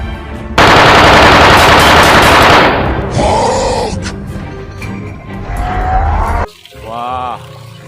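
A toy gun fires a loud burst of rapid gunfire-like clatter for about two seconds, then quieter clicks, splashing and rustling, with a short mechanical whirr at the end.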